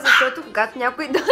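A pet dog at home gives a few sharp, close barks that overlap someone talking indoors.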